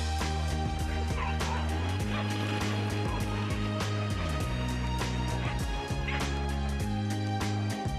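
Alaskan sled dogs bark, yip and whine together in a loud, continuous chorus before a mushing race, with overlapping calls throughout and a faint bit of background talk.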